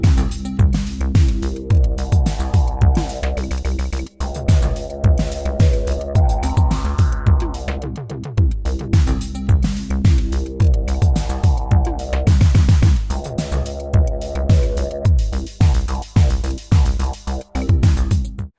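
A Korg Drumlogue groovebox loop pumps steady punchy kicks and percussion under a custom sampled bass line, a rising lead sample and a soft synth drone, dense and continuous throughout.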